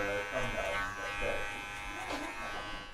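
Electric hair clippers fitted with a guard buzz steadily at close range while cutting a men's textured crop, a continuous hum with slight shifts as they move through the hair, with a faint voice underneath.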